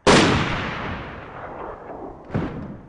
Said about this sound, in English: That grenade almost killed me.